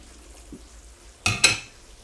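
Vegetables hit a hot pan for a chicken stir fry, two sudden loud sizzling bursts after a quiet stretch with a faint clink, the hiss then easing off and lingering in the background.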